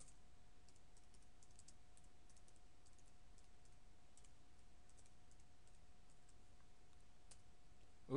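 Faint, steady clicking of someone typing router configuration commands on a computer keyboard, soft keystrokes running continuously over a quiet background hum.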